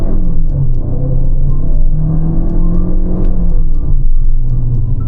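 Chery Tiggo Cross with a 1.5 litre turbo engine accelerating in sport mode from a traffic light: a loud, close cabin engine drone that rises steadily in pitch as the revs climb, smooth and continuous.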